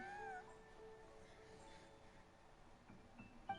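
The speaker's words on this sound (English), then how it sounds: "Just a cat" A single cat meows in the Genshin Impact game world, a faint, brief call near the start over quiet ambient game music, with a few soft sounds afterward.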